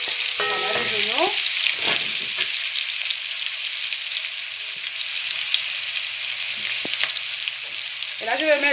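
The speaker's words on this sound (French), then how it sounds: "je vais commencer à faire venir les oignons" Onions frying in a pan for a fish pilau, a loud continuous sizzle close up, with occasional stirring scrapes and clinks and a couple of brief high tones at the start and end.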